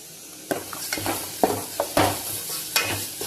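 Horse gram palya sizzles in a pan as a spoon stirs it in several distinct scraping strokes over a constant frying hiss, close and alone.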